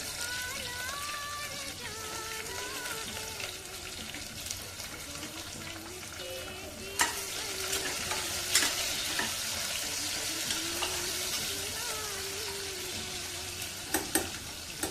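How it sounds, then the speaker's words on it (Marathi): Onions fry in a pan for Maharashtrian masala rice with cloves and black pepper, giving a steady, close sizzle broken by occasional sharp clicks of stirring. "कांदा भाजून घ्यायचा."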